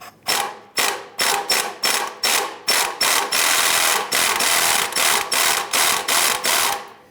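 A socket wrench ratchets in fast, regular bursts of sharp clicking while working on a rusted exhaust manifold bolt of a 1999–2004 Jeep Grand Cherokee 4.7L V8, loud and close, with no talk.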